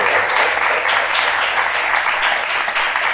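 A crowd at a poetry reading applauds, a dense, steady, loud wash of clapping that fills the whole stretch without letting up.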